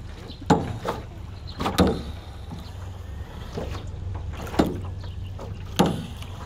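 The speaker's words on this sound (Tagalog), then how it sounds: "Tawag yan, speedboat." A speedboat passing offshore near a beach in Panglao, Bohol, heard as a low steady engine drone beneath repeated sharp splashes and knocks of hull on water at irregular intervals, moderately distant.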